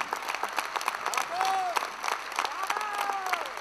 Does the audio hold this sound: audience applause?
yes